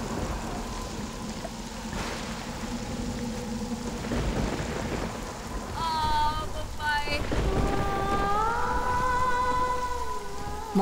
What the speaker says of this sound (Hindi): अभी अभी आसमान साफ था और अब ये बादल और बारिश।